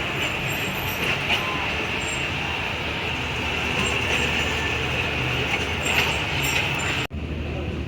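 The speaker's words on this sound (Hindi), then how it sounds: "तो साथ अवाम एक्सप्रेस आ गई है 13 अब।" Awam Express passenger train arriving at a railway station, a steady loud rolling rumble with rail noise, continuous and close, cut off abruptly near the end.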